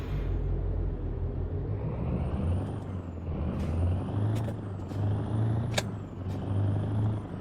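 Air brakes hiss repeatedly on a heavy lorry in Euro Truck Simulator 2, sharp bursts over a steady low engine rumble, with a faint high whine and the odd click near the end.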